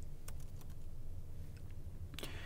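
Sparse keystrokes tap on a computer keyboard while a router is being configured, a handful of soft, irregular clicks with a short burst near the end over a steady low hum.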